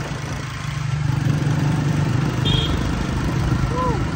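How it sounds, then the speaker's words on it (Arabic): Motorbike taxi ride through Islamabad streets in Pakistan, a steady mid-to-low engine drone with road rumble running continuously, a brief horn-like tone near the end, with voices faintly present in the background. "نحن هون راكبين الموتور يا جماعة."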